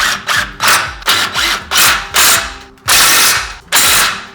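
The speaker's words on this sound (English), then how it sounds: "Now I'll get the impact and tighten those in." An impact wrench tightens the brake caliper bolts on a Hyundai Veloster N during a rotor swap, firing in about eight loud, rapid hammering bursts separated by short pauses, close to the microphone.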